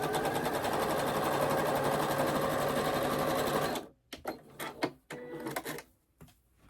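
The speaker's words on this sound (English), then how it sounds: "I'm gonna go ahead and sew on the other side of that line" A sewing machine stitches quilt fabric in a fast, steady mechanical whir for several seconds, then stops, followed by a few sharp clicks and handling knocks.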